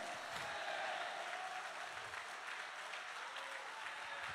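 A church congregation applauding during a worship service, a continuous wash of many hands clapping together, even and sustained from start to finish.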